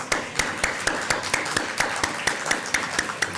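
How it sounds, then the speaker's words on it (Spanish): Audience at a public-health conference applauds two presenters with an even, steady run of moderately loud claps that carries through the whole stretch, with no voices over it. "Les rogaría un aplauso entonces para los dos expositores"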